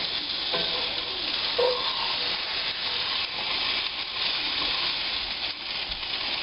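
A bass sizzles steadily in a hot frying pan, a dense, even crackle that runs close and loud throughout with only small flickers of spatter.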